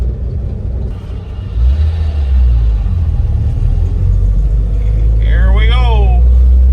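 A car pulls away through a neighborhood in first gear, a steady low engine rumble that swells and holds close, with a brief voice heard near the end.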